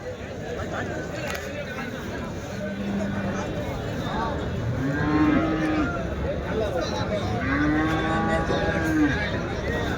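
Cows moo a few times at a busy cattle market. The calls are moderately close and sit under steady crowd chatter and background noise.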